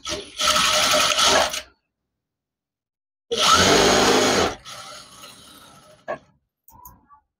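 A sewing machine stitches folded blouse fabric in two loud, steady runs of fast whirring with a silent pause between them, followed by softer handling noises and a few clicks.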